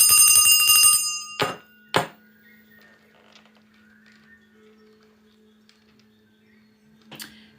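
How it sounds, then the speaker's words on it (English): A bell rings with a bright metallic ring at the start, followed by a few sharp struck hits and one more later strike, each fading into near silence under a low steady hum. "Can we ring the bell to go to the next level"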